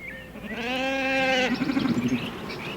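Sheep being worked by a heading dog bleat loudly and close by, one long wavering call followed by a shorter, stuttering bleat, with faint farm ambience behind.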